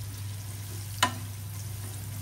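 Onion frying in a pan for Bengali fish curry, a steady close sizzle with one sharp clack of a utensil partway through.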